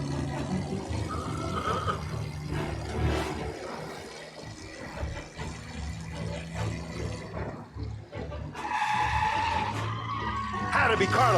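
Tyres skid and squeal as a car is driven recklessly in Mafia Definitive Edition, the sliding screech rising over engine noise and game sound with voices talking throughout.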